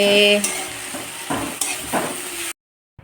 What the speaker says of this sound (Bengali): ভাজা চচ্চড়ি ভাজা হচ্ছে